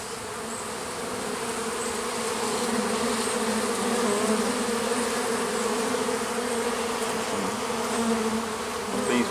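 Honeybees buzz around their hives with pollen loads, a steady, dense drone from many insects that holds for the whole stretch without any voices.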